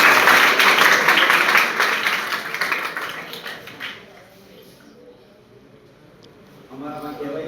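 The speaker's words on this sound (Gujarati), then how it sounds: "ફરી એકવાર એના માટે જોરદાર તાળીઓ." Enthusiastic applause from a gathered audience at a Gujarati-language talk, a dense steady crowd clapping that gradually fades to quiet before a voice begins speaking.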